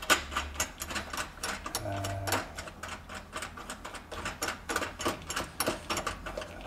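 A nut being spun by hand off a long threaded bar during a classic Mini restoration, a quick run of light metallic ticks and rattles, close and fairly quiet.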